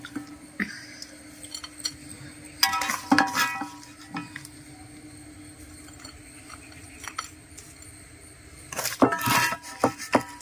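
Cooked homemade tea-time snack, a kind that keeps for months, is scooped into a vessel with a utensil. Close, intermittent scraping and clinking come in short bursts, with a quieter stretch between them.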